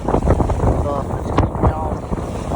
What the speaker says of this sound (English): 15-mile/per-hour winds out of the southwest.